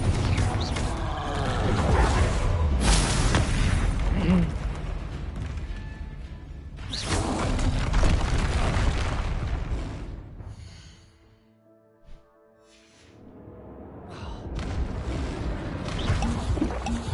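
Confringo spell explosions in Hogwarts Legacy, a fantasy video game, burst out as loud, dense blasts in several heavy waves, dropping to a brief quiet lull before the roaring picks up again.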